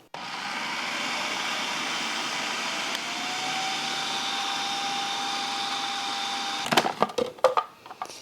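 A blender runs steadily while emulsifying homemade mayonnaise in a home kitchen, a loud continuous motor whir lasting several seconds before cutting off into a few clatters and knocks as the jar is handled.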